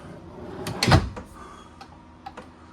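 A wooden dovetailed drawer on an Island Packet 439 sailboat slides along its drawer slides and thumps shut, followed by a few light clicks and taps nearby.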